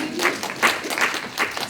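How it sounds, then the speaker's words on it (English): Round of applause from a seated audience at an economic empowerment workshop, welcoming a participant named Andrine; steady mid-level clapping with some accented bursts, fairly close and unbroken, with no talk over it. "Give her another round of applause."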